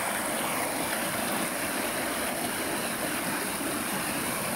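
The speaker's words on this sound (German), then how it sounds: "Und gerade hier dieser Bach." Rushing mountain stream in the Alps, a loud, steady broadband roar of churning water close by, with no voices.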